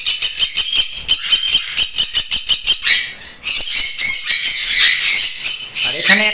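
Sun conures and yellow-sided conures squawk loudly at close range, first in a rapid train of sharp, evenly spaced calls, then in a dense overlapping burst of shrill screeches.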